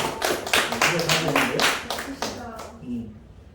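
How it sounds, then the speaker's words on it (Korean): Audience at a Korean life-coaching lecture clapping in a dense burst of many hands for a few seconds, then fading, with a voice speaking over it. "박수 한번 쳐주세요."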